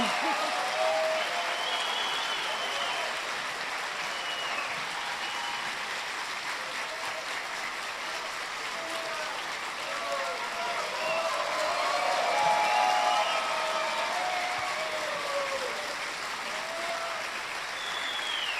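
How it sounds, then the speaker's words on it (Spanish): Sustained audience applause at a foundation event in an auditorium, steady dense clapping lasting throughout with a slight swell near the end, no talk over it. "Me siento honrada por los aplausos."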